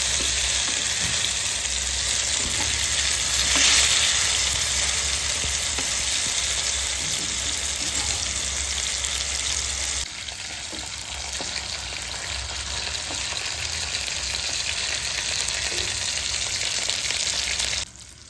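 Fish fries in hot oil in a pan with a steady close sizzle, and partway through a turn of the fish briefly shifts and softens the crackle before it builds again.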